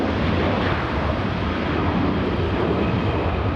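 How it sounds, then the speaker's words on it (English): JetBlue airliner landing slowly at LAX, a loud, continuous broadband engine roar that stays steady and close for the whole stretch, with no speech over it. "JetBlue coming in pretty slow, allowing the Mexican 737 to catch up."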